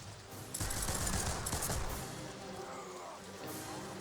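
Massed musket volley in the Warhammer: Mark of Chaos battle game, a dense crackling burst of gunfire that swells and rolls for about two seconds, then fades into a lingering battlefield rumble.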